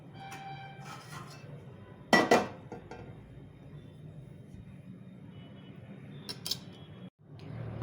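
A kadai pan is set down on a stove, giving a sharp metallic clank followed later by a lighter clatter of cookware over a quiet kitchen background, with no voices.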